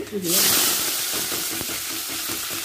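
Hot oil erupts into a loud sizzle in a pan while cooking a Congolese meal, the hiss holding steady and slowly easing with occasional crackles and a brief spoken phrase at the start.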